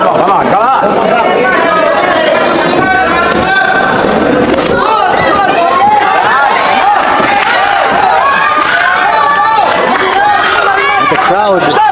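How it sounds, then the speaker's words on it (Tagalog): A dense boxing crowd roars and cheers on fighter Bacosa in a Pacquiao vs Kundimang bout, with loud, continuous, surging noise and a commentator speaking over it throughout. "The crowd reacting when Bacosa is on the attack. They're cheering him on."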